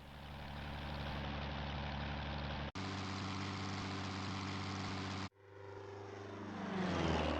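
A helicopter in the video game Time Crisis gives a loud, steady droning engine hum that cuts abruptly twice, then swells back with a rising whine, with no voices present.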